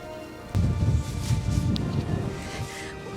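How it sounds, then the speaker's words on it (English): Strong wind gusting across the East Fjords of Iceland, a steady loud roar with a buffeting burst of low rumble and microphone wind noise, no voices. "the wind started again, so it's like this, super windy"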